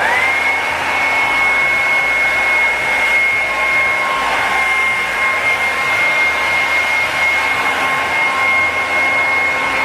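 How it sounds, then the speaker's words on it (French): A Silvercrest hair dryer runs continuously at close range, with a loud, steady blowing whoosh and a high motor whine and no voices. "moi c'est un sèche-cheveux de la marque Silvercrest"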